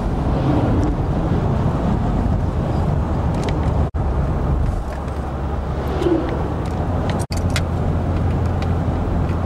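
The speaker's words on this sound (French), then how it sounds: "Des beaux camions." Steady low road rumble of trucks passing on a rural Canadian road, a continuous broad roar without pauses, with faint bird calls and some wind noise over it.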